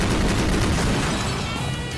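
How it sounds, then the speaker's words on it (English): Fierce gunfire during a shootout beside a burning car in the Rose Guns Days video game, a loud, dense wash of rapid shots and booms filling the moment without pause, with no voices. "the fierce gunfire had them pinned behind the burning car that was rapidly turning into scrap"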